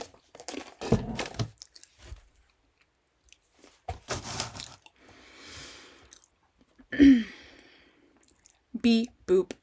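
A person munching a snack up close, with crunchy bites and chewing in short separate bursts and pauses, plus brief vocal sounds in between.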